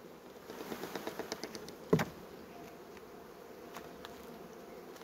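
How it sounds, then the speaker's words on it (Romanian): Honeybees buzz steadily close by as a hive frame is shaken free of them, with a few soft taps before a sharp thump and a lower hum afterward. "deocamdată o scutur de albină"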